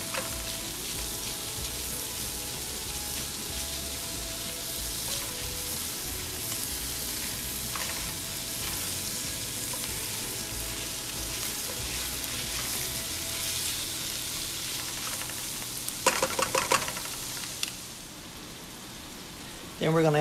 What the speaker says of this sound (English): Next, add about a pound and a half of a lean ground beef. And brown that, incorporate it in with the onions and garlic.